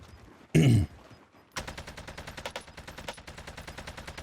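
Automatic gunfire in the video game Call of Duty Warzone: one short loud blast, then a long, rapid, evenly spaced stream of shots fired up close.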